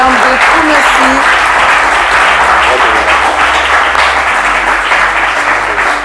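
Loud, sustained applause from a studio audience for quiz contestants on a televised school quiz show, steady clapping filling the room from start to finish with crowd noise mixed in.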